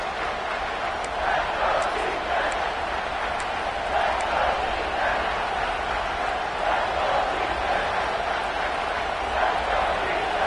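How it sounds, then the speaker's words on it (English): Buckeye college football stadium crowd roaring on third down, a steady dense wall of cheering and noise that holds loud and unbroken throughout. "The Buckeye crowd alive on third down."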